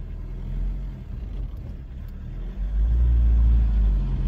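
A VW Rabbit pickup, a barn find that sat for 25 years, idles with a steady low rumble, then swells louder and deeper partway through as the engine picks up revs; no voices.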